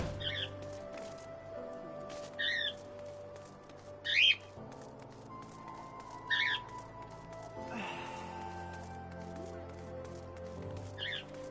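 Pet birds squawk indoors in short, sharp, high bursts spaced every couple of seconds, fairly quiet and near, with a low background hum between calls.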